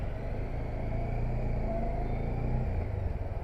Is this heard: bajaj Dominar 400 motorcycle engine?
yes